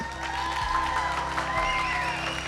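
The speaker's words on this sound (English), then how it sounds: "Big round of applause" An audience claps after a talk on health and the body, a moderate, fairly distant patter of many hands with a little cheering and voices mixed in over a low room hum.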